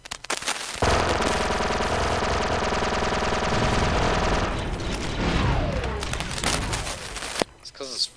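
A pellet gun in the Star Wars: Republic Commando game fires sustained rapid bursts close by, with a dense rattling volley that fades near the end, while voices talk over it.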